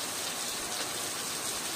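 Heavy monsoon rain pours steadily outside a house, a dense, continuous hiss of water on surfaces with no voices.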